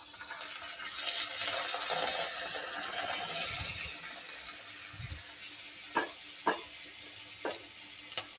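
Onions and nuts sauté in a pan with a soft, quiet sizzle, while a spatula stirs them and knocks against the pan in a few sharp clicks near the end.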